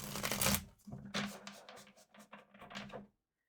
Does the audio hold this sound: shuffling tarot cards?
yes